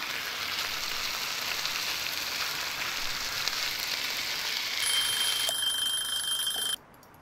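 Beef chuck frying in a pan with button mushrooms in Cooking Simulator, a steady hiss of sizzling that swells slightly, joined by a thin electronic beeping tone before cutting off abruptly.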